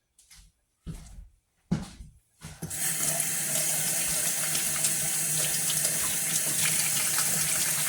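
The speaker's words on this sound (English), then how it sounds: "Now that you're done cubing your roast, wash your damn hands." Hands are washed under a running kitchen tap after cubing a roast for stew: a few short bursts of water give way to a steady, close rush of flowing water.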